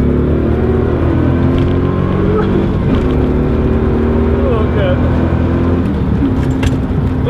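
A Corvette's engine drops a gear and pulls hard, a loud, close rumbling drone from inside the cabin whose pitch climbs as the car accelerates, with wind noise over it.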